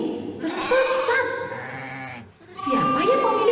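A sheep gives two long, quavering bleats, near and loud, separated by a short pause, with no other sound alongside.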